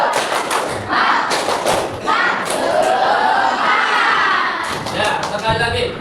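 Students in a classroom, standing, perform a rhythmic spirit clap cheer: loud, close bursts of patterned claps and thumps, mixed with children shouting together.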